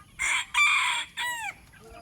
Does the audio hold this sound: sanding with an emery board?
no